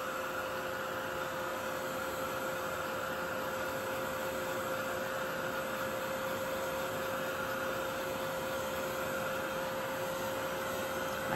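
A heat tool drying a painted card background for a handmade vintage card gives a steady, loud blowing whir that runs unbroken for the whole stretch, with no talking over it.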